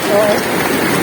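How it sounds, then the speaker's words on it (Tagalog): Heavy rain pours in a loud, constant hiss with a faint voice beneath it. "Napakalakas na ng ulan."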